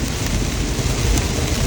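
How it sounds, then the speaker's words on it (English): An intense downpour pounds on a tent during a storm, a dense, loud, unbroken roar of rain with no pauses and no voices. "That was a quick little, pretty intense downpour."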